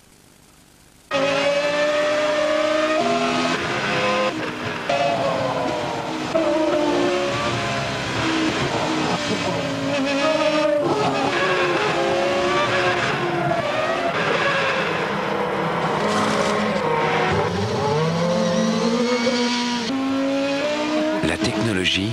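A BMW Williams Formula One car on a racing circuit, a loud, high engine wail rising and falling through gear changes, heard under a voice.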